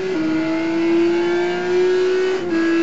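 A Ferrari F550 engine in a racing video game on the Nurburgring, holding a steady loud drone with a brief pitch dip as it shifts or lifts, continuous and close.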